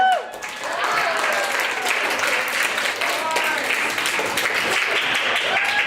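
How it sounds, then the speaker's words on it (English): Audience applause at a story slam, a dense steady wash of clapping filling the room for several seconds, with a voice speaking over it at moments. "Everyone give a big round of applause."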